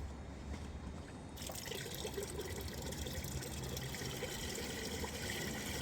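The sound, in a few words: gasoline poured into bucket of used motor oil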